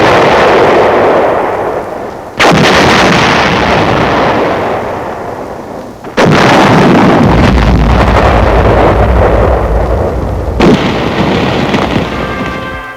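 Three heavy booming blasts of artillery and gunfire, each rolling into a long rumbling roar. Loud and continuous, with no voices.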